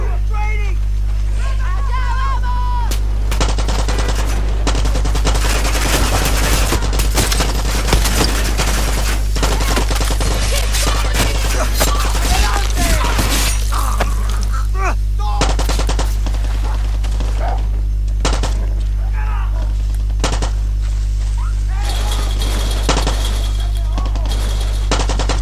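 Enemies in Far Cry 6 shoot at the player: rapid bursts of automatic fire, loud and close, going off repeatedly over a constant low hum, with someone talking between the bursts.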